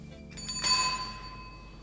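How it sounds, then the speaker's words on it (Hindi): A bicycle bell gives a single bright ring that rises briefly and then fades out, fairly faint against a quiet background. "साइकिल की घंटी दे दीजिए।"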